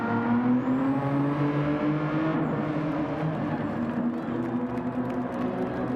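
Racing car lapping in Gran Turismo 7, a sustained engine drone with gently shifting pitch running close and steady throughout.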